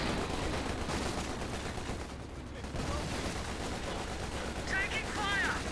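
Bren light machine gun fire in Company of Heroes 2, a dense continuous stretch of distant automatic gunfire and battle noise, with a brief lull partway through.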